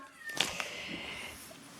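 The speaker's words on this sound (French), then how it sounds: "Oui, il y a un chat." A cat gives one short meow at close range, followed by faint background noise in an indoor room.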